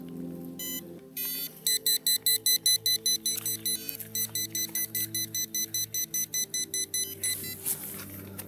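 Rapid, rhythmic high-pitched electronic beeping pulses from a metal detector, steady and close, shifting tone slightly at the start and end over a low hum.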